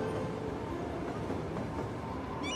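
A passenger train in the city-building video game Cities: Skylines rolls along with a steady, moderately loud rumble and rattle of cars on rails, ending in a brief high squeal, with no voices.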